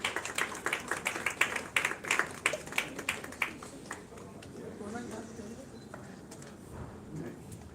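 An audience at a film festival award ceremony in India claps in a brief round of applause that fades after a few seconds, leaving a quiet hall with murmuring voices.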